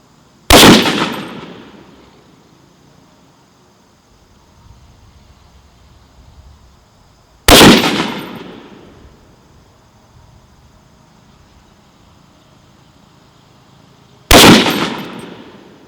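Three sharp .308 Winchester rifle shots firing Hornady Critical Defense 155-grain FTX ammunition crack out about seven seconds apart, each loud report trailing off in a brief echo, with quiet between shots outdoors.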